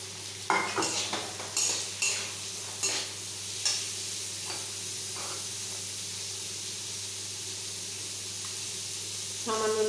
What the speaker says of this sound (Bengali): এবার আমি গাজরগুলো দিয়ে দেবো ভাজা মতো।